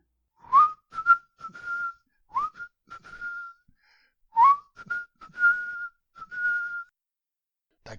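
A person whistles a lively tune in short phrases, mixing quick upward slides with held notes, clear and close with brief pauses between.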